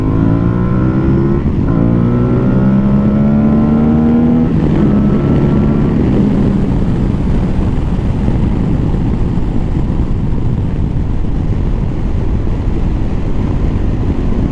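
An Aprilia Tuareg 660 adventure motorcycle is ridden at speed without a windshield, its engine note climbing through a gear change early on before heavy, loud wind buffeting dominates continuously to the end.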